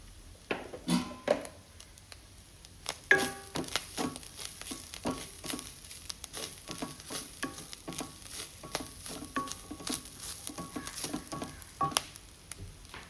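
Mushroom xacuti masala frying in a pan after turmeric is added, soft steady sizzling with frequent scraping and stirring clicks of a utensil against the pan, close and fairly quiet.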